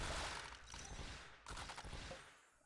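Dense, loud burst of crackling effects from a disco ball and rocket combo in the puzzle game Toon Blast, a sustained roar of rapid pops that briefly dips then surges again before fading.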